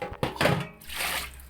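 Coconut milk being poured for fish kinilaw, a short liquid splashing and gurgling pour that is close and fairly loud, with no voices.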